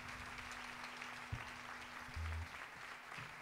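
Steady applause from an audience, a dense, even wash of clapping heard at a distance and fairly faint, with a couple of low thumps and no voices over it.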